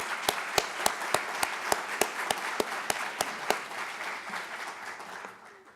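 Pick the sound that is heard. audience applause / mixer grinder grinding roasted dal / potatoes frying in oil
audience applause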